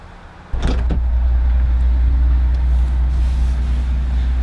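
A supercharged Ford F-150 FM 700 Outlaw pickup engine cranks and catches abruptly, then settles into a loud, steady, deep idle rumble heard close up with no talking.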